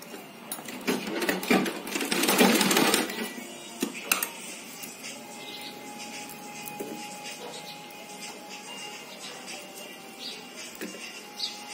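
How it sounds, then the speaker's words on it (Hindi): A sewing machine double-stitches fabric for a handmade potli bag in a quick rattling burst that swells for a couple of seconds, followed by softer intermittent stitching and faint taps. "इसमें अभी हमें डबल सिलाई करना है।"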